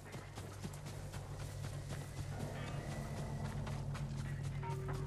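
Horse hooves clip-clop at a steady trotting rhythm in the video game Ghost of Tsushima, moderately close and continuous, with quiet ambient game sounds underneath.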